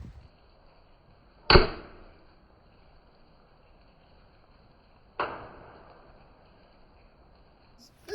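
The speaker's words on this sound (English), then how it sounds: "Let's take a shot at one of my sheds." Daisy model 188 BB gun fired at a shed: two sharp spring-powered snaps a few seconds apart, each with a short fading tail, close and loud over a quiet outdoor background.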